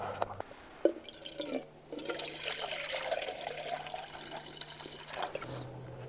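Unfiltered lake water is poured into a pot for boiling potatoes at a tent campsite, giving a soft splashing trickle with small drips, faint and close, without talk.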